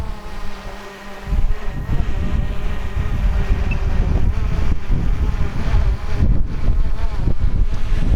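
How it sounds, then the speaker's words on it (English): Very strong wind of about 40 mph buffets a hovering drone outdoors, a loud, continuous broadband roar with a steady motor-like whine running underneath and gusty swells throughout. "he's holding his position pretty well in the very strong wind here"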